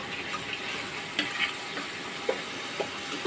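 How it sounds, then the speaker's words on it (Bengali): Onion and spices sautéing in a pan for a Bangladeshi pangas fish curry, a steady soft sizzle of frying with a few scattered clicks of stirring, close and moderately quiet throughout. "এটাকে কিছুক্ষণ সময় নিয়ে কষাইতে হবে"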